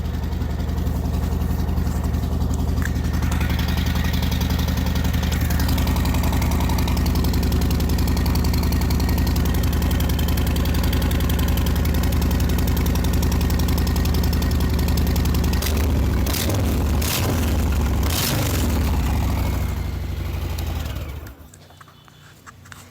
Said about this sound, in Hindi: ये मोटरसाइकिल स्टार्ट हो गया है